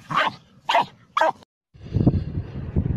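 An excited dog barks on coastal rocks at Crackington Haven in North Cornwall: three loud, close barks in quick succession, then a pause before rougher outdoor rumble and scuffling follow.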